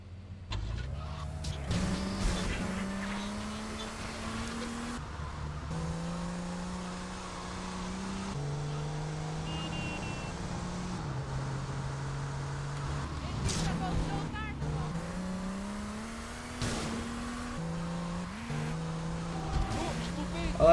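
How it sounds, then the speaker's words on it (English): A car's engine revs through rising gear shifts while driving in a video game, steady motor drone with tire noise, heard under someone talking. "Let me try out this new car."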